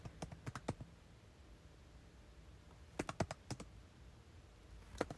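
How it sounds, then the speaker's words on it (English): Quiet bursts of computer keyboard typing come in two short runs of quick clicky keystrokes, with a single extra tap near the end, all up close and otherwise silent. "I typed in abandoned"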